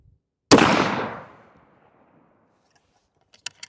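A single sharp, loud rifle shot from a C Sharps Arms 1885 single-shot rifle fitted with a Malcolm 6x long scope, with a long fading echo rolling out afterward and a couple of faint clicks near the end.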